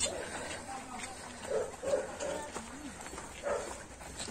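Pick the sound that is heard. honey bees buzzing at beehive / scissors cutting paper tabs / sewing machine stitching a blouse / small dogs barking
small dogs barking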